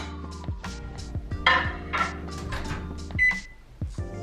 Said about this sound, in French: Passer au micro-ondes un petit peu, 30 secondes